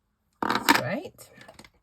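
Long-bladed scissors snip through paper with a quick rasping cut followed by a few softer trailing snips, close and alone.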